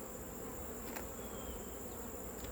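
Honeybees humming steadily from an open nucleus hive during a fall inspection, a close, continuous dense buzz with no voices.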